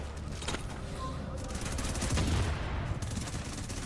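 MP7 submachine gun fire in The Division's Dark Zone PvP, rapid bursts crackling over a dense background of game noise, loud and close, with a voice talking over part of it.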